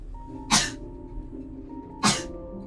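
Two sharp sneezes about one and a half seconds apart, close and loud, over a low steady background hum.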